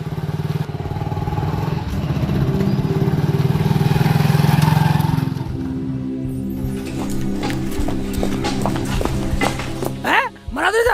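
A motorcycle engine drones loudly and steadily for the first five seconds, then drops to a quieter running hum with clatter and a brief dip near the end.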